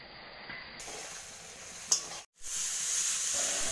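Spices and chili powder with a splash of water sauté in a pan for a Bengali tilapia fish curry, making a bright, hissing sizzle that briefly cuts out before returning steady and loud.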